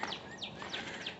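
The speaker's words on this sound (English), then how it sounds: "I love hearing the birds chirp." Faint birds chirping in the distance in Helltown, Ohio, a few short repeated tweets over a soft outdoor background, no one speaking.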